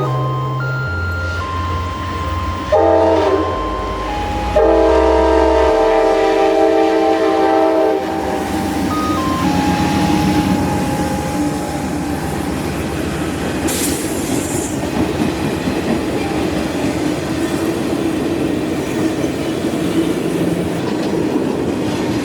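A freight train rolls through a worn railroad crossing near Lithia Springs, its horn blaring in loud sustained blasts before the steady clatter and rumble of wheels on rails carries on close by.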